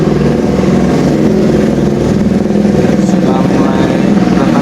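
Cars arriving and rolling into a school complex during registration for a Quran recitation event in Simeulue, Aceh, engines rumbling close and continuous under someone speaking.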